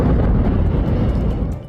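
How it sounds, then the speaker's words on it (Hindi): A weapons depot explodes in Idlib, Syria, giving a loud, sustained roaring blast with deep rumble that fills the whole moment, with no voices. "सीरिया के इदलिब प्रांत में हथियारों के डिपो में भीषण विस्फोट हुआ, जिसकी आवाज काफी दूर तक सुनाई थी।"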